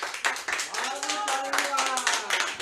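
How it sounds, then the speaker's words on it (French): An audience at an interview with a publisher bursts into applause, steady dense clapping filling the room throughout with a murmur of voices underneath. "Est-ce que vous pouvez applaudir, qu'on vous entende?"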